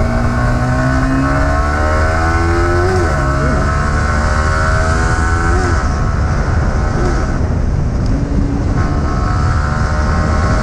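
Yamaha R15 V3 155 motorcycle with VVA, variable valve actuation, revving hard at high RPM, its loud engine whine sweeping up in pitch through several climbs, close and continuous over road wind noise.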